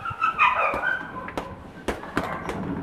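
A dog whimpers and yips, then gives a few short sharp barks, spaced out against a quiet background.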